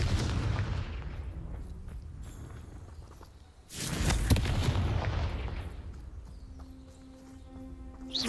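A Confringo fire-blast spell exploding in the game Hogwarts Legacy, a loud roaring burst that swells suddenly partway through over a rumbling background and then fades into a lingering tail.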